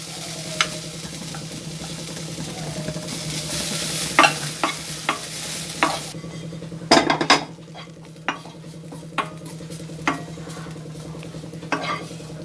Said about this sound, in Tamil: கொஞ்சம் சிம்மில் வச்சு கொஞ்சமாக தேங்காய் பூ வந்து லைட்டாக ஃப்ரை பண்ணி எடுத்துருங்க